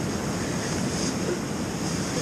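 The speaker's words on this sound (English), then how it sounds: "So I got sick of the wind. We've been dealing with it all day." Wind gusts around a tent at a winter camp in Frontenac, producing a constant loud rushing roar with no breaks or voices.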